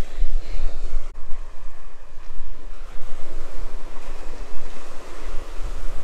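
Surf breaks and washes on a private beach in Baja California, a loud rolling roar of surging waves mixed with wind buffeting the microphone, continuous with no voices.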